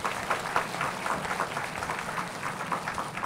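An audience claps steadily through a Buddhist dharma lecture at a temple, a moderate, continuous patter of many hands with no voices over it.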